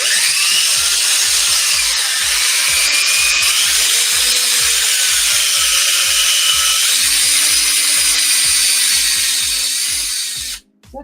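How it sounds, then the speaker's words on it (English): A handheld power tool runs continuously on wood while ornaments are being made, a steady loud whine with a rhythmic pulsing underneath that cuts off near the end. "we're gonna use power tools"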